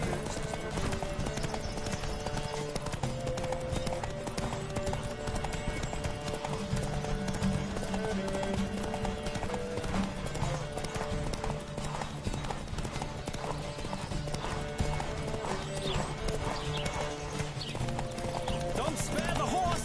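Steady rhythmic hoofbeats of a galloping horse in a race in The Witcher 3 run throughout, with occasional whinnies, layered over continuous music and game sounds.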